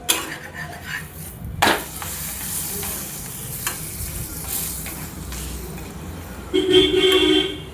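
A spinach paratha frying in butter in a pan hisses steadily up close, broken by spatula scrapes and a sharp clank, with a louder sizzling burst near the end.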